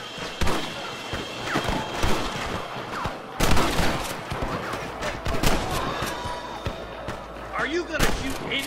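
Gunfire rings out at cattle rustlers in the Western video game Red Dead Redemption. Repeated sharp shots crack in bursts, some in quick clusters, over an active game soundscape with shouting voices.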